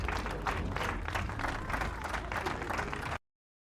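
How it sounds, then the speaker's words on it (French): A crowd at Fort-de-France applauds the Sodebo Ultime 3 crew, Thomas Coville and Benjamin Schwartz, as they finish the Transat Café L'Or; dense, steady clapping fills the clip before cutting off abruptly. "Mesdames et messieurs, des applaudissements pour Thomas Coville et Benjamin Schwartz."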